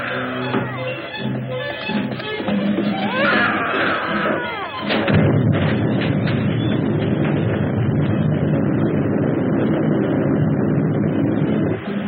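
A large gun fires a single heavy booming shot, followed by a long rumbling roar that fills the rest of the stretch after some earlier commotion.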